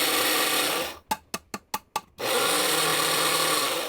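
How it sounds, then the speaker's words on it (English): Electric grinder chewing through coffee beans in an RV bedroom, a loud steady whirring burst that stops for several short pulsed bursts, then runs continuously again. "I have to come in the bedroom and grind these coffee beans in the morning"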